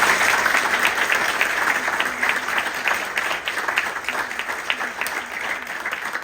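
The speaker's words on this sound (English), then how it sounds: "So please give Desmond a round of applause." A book launch audience for a heritage group in a hall gives a sustained round of applause, many hands clapping densely and steadily throughout with no talk.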